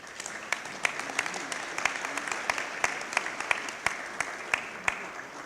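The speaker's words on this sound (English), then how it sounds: "Please give yourselves a round of applause." Audience applause at a My Brother's Keeper opening ceremony in Buffalo, a steady wash of many hands clapping with sharper individual claps standing out, moderately distant and continuous throughout.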